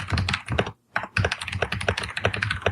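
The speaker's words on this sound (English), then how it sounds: "Are you typing War and Peace as we speak?" Rapid, loud typing on a computer keyboard, with close clattering keystrokes in quick bursts, one brief pause, then continuous fast tapping with no voices.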